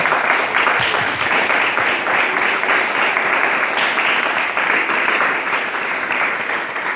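A crowd at a church service claps loudly and steadily, dense applause continuing without a break.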